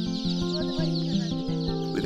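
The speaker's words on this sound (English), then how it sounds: "Chickens look hungry. They want to get out and run about." Small chickens cluck in a rapid series of short, repeated calls close by.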